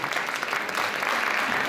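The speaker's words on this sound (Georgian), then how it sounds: "აპლოდისმენტები უნდა დაში" Concert audience applauding in Kutaisi, a steady wash of many hands clapping at once, continuous and fairly dense from start to finish with no voices standing out.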